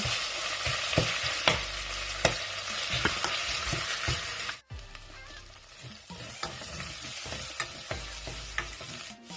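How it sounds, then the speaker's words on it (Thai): Kaeng liang curry paste stir-frying in hot oil in a pot, a bright crackling sizzle with regular spatula scrapes, a brief break midway, then frying resumes; close-up, no voices. "ตั้งหม้อแล้วใส่น้ำมัน แล้วก็ใส่เครื่องแกงเลียงลงไปเลยจ้า แล้วก็ผัดให้เครื่องแกงเลียงหอม"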